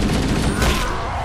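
Grenade blast mixed with gunfire in the Halo CE video game on the Planetfall level, a brief dense burst of loud crackling battle noise with no pauses.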